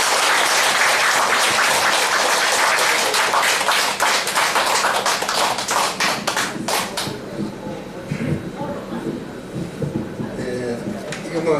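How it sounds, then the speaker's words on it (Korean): Audience applause at a gathering ahead of a bust unveiling ceremony, dense loud clapping for about seven seconds that thins out and fades into scattered claps and low room murmur. "우리 큰 박수로 한번 감사해 주시기 바랍니다."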